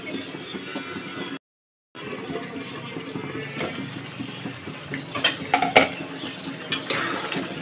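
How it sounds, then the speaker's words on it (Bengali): A spoon stirs potato dal in a karahi, with soft scraping and clinks against the pan over a low cooking hiss, broken by a brief silent gap and a few sharper knocks near the end. "ঘন ঘন একটু পরপর নাড়তে হবে, না হলে নিচে লেগে যাবে কড়াইয়ের নিচে"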